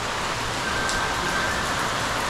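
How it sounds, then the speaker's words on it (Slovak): Rain falling steadily at a villa on Koh Samui, a dense even hiss of drops on surfaces, moderately loud and unbroken, with a faint whistle-like tone in the background. "my sme stále čakali, kým doprší. Už je ten dáž miernejší."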